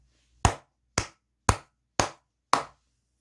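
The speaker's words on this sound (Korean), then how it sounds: "너무나 기분 좋은 소식이기 때문에 크게 박수 한번 치고 가도록 하겠습니다." Five sharp, evenly spaced hand claps ring out about half a second apart, close and crisp, with no talking around them.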